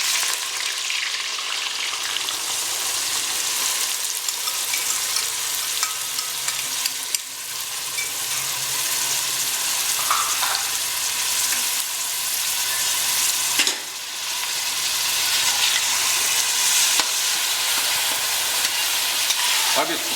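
Onions frying in hot ghee for a mutton dish, a loud, steady, close sizzle that fills the whole stretch, with faint stirring scrapes and no speech.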